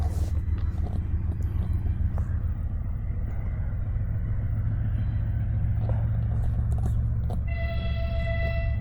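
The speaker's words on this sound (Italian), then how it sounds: "che sta arrivando il treno" A large train rolls into Comrat station in Gagauzia, Moldova, a heavy continuous low rumble that stays loud throughout, with a sustained tonal horn or whistle rising near the end.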